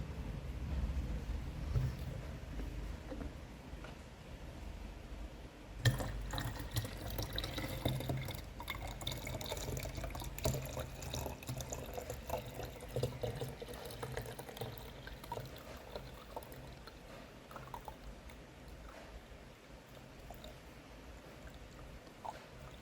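Liquid is poured through a funnel improvised from a cut bottle, a quiet, steady trickle with drips and a hollow plastic ring that runs on for a long stretch, close and soft.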